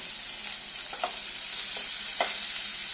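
Chopped onions fry in a pan with a steady, close hiss of sizzling oil and a couple of brief scraping stirs.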